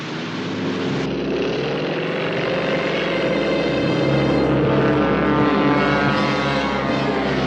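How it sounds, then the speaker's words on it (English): A propeller airplane engine drones steadily in a cartoon chase, a loud continuous roar with a low hum that swells slightly toward the end. "That's General Urko's airplane"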